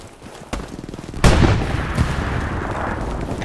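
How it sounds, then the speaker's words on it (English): Tank main cannon firing in the World War II shooter Hell Let Loose: a sharp blast with a long rumbling tail, preceded by a fainter earlier report, heard close and loud with no talk. "Let me just lob another shot at him real quick."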